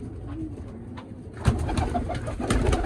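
Pigeons coo softly and repeatedly over a busy outdoor background, with rustling and low rumbling noise growing louder partway through.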